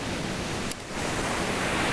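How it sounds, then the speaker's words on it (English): Steady ocean surf washing on a sunny day outdoors, a continuous broadband rush of waves with faint wind, even and unbroken throughout with no voice. "I hope the waves don't distract you."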